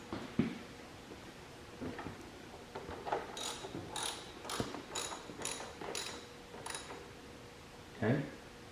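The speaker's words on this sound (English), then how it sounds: "let me get the 14mm nuts tightened down before I go" A ratchet wrench tightens 14mm nuts on an LS XR3135 tractor, giving a series of quick, faint clicking bursts at close range with quiet background noise and brief handling knocks.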